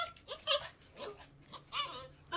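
A dog whimpers in short, faint, high-pitched whines, several separate yelps and cries spread over a couple of seconds in a quiet room.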